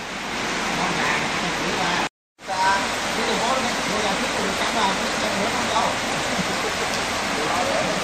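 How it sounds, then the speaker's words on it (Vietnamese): Steady rain pours down through the dusk, filling the scene with a dense, continuous hiss that holds loud and even throughout, broken only by one brief cut of silence near the start. "Thì video nó đang mưa nên nó cũng hơi ồn"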